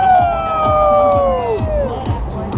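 Hockey crowd at the 2015 Winter Classic in Chicago cheering and whooping nearby, with loud whistling tones sliding downward over a steady roar of voices.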